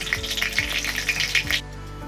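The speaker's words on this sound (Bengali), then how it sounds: "তেল গরম হয়ে গেছে এখন আমি দিয়ে দিচ্ছি কালো জিরে আর দুটো শুকনো লঙ্কা" Black cumin seeds and two dried red chillies frying in hot oil for a cabbage paturi, giving a close, steady crackling sizzle with small pops that stops abruptly near the end.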